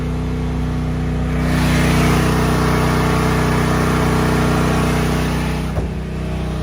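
A Duromax home generator running on natural gas drones steadily and loudly, then its sound drops away near the end as it is shut off by cutting the gas supply.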